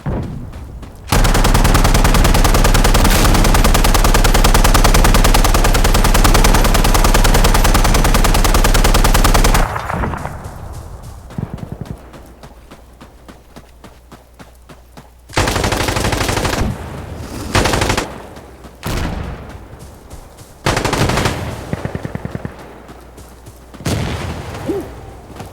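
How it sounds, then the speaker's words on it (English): An artillery barrage of smoke rounds in the video game Insurgency Sandstorm: a long, loud, dense roar of continuous blasts, then a series of separate heavy booming bursts with short gaps between them. "We could really use some smoke cover on this target. Observer, this is station. Got it? Firing smoke rounds."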